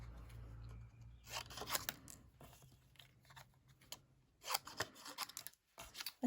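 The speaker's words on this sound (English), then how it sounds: "cut out with snips" Paper card being cut out with snips, a run of crisp snipping and rustling strokes in irregular bursts, close and fairly quiet over a low hum.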